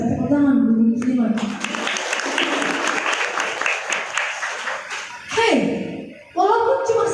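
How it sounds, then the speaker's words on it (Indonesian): An audience of women at a religious study gathering claps hands in a burst of applause lasting a few seconds, with a voice speaking before and after it. "tepuk tangan dulu muslimat"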